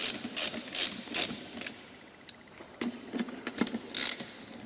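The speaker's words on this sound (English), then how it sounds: "tighten all 3 bolts here" Close ratcheting as bolts are tightened on a Barton Challenger pistol grip: quick clusters of sharp clicks in short strokes, with a quieter gap in between, no voices.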